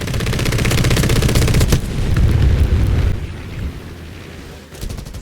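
Rapid machine gun fire in a WWII flight combat video game, with aircraft guns exchanging shots with bombers; loud, dense continuous bursts for about three seconds, then a quieter lull and a short final burst.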